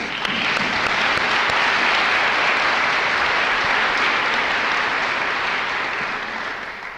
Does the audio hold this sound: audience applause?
yes